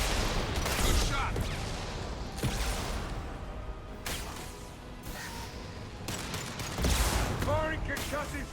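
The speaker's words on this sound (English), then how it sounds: "Firing concussive shot!" A concussive shot fires in Mass Effect 2 amid a mercenary firefight, with bursts of gunfire, booms and whooshes under steady talking.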